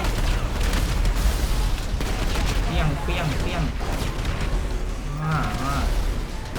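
Explosions and bursts of gunfire in GTA V rumble continuously under excited talking, with a steady roar of background battle noise.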